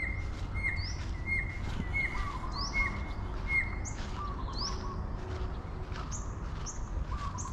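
A bird gives repeated short, rising whistled calls, cockatoo-like, outdoors in Thailand, spaced at a fairly even rhythm over a steady background hiss.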